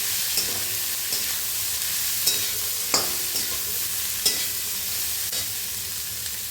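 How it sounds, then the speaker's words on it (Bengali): Pre-fried onions sizzle in a pan of frying curry while a spatula stirs them, the even hiss punctuated by several sharp scrapes and clicks against the pan, close up and without talk. "আমি ভেজে রাখা পেঁয়াজগুলো এর মধ্যে অ্যাড করে দেবো, দিয়ে একটু ভেজে নেব"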